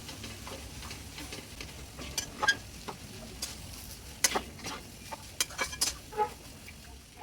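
Samosa filling sautéing in a pan, a soft low sizzle broken by frequent sharp scrapes and clicks of a spoon stirring against the metal.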